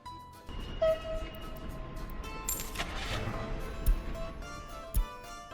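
A CHS225E electric locomotive running in the game Workers & Resources: Soviet Republic, a steady rolling rumble with mechanical whirring and a few louder clanks, heard up close.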